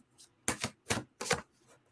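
Oracle cards shuffled by hand in a quiet room, giving three or four short crisp riffling bursts separated by brief pauses, close and fairly soft, with no speech.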